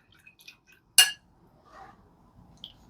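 Brown sugar being stirred into water with a utensil, mostly quiet with one sharp clink of metal against the container and a few faint taps and scrapes around it.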